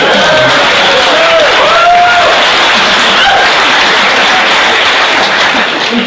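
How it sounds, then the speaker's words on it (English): A university speech audience bursts into loud, sustained applause that fills the whole stretch, dense and close, with a few whoops and crowd voices mixed into the clapping. "Come on, give him a round of humiliation applause."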